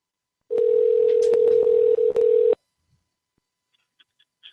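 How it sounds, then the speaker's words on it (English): A computer dials a phone number: a steady, loud line tone broken by short dialing beeps runs for about two seconds, then cuts off into near silence with a few faint blips. "you heard the computer ringing."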